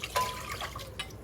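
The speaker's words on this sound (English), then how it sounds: "I just filled up the can with water and put 1 can of water in there" Water from a can is poured into a pot holding canned whole-berry cranberry sauce, giving a faint, brief splashing and trickling with small drips.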